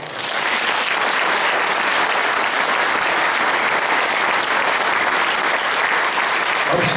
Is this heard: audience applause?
yes